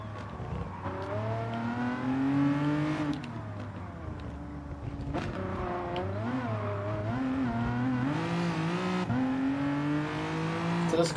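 A race car engine in Gran Turismo revs hard and climbs through several gears, the pitch rising and then dropping at each shift, loud and close over the whole run.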